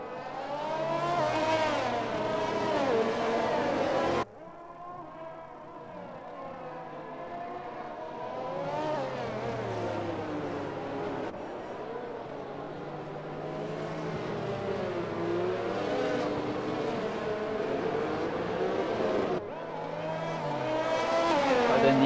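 Racing-game Formula car engines, including an AlphaTauri warming its tyres behind the safety car before a restart in Canada, droning and revving steadily with shifting pitch and sharp gear changes, loud and continuous.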